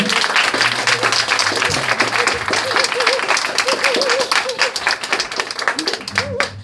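A congregation at a high school summer church retreat claps for the worship team, loud, brisk applause with a voice talking over it and a few tonal sounds rising above the clapping.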